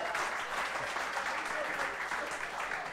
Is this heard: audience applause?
yes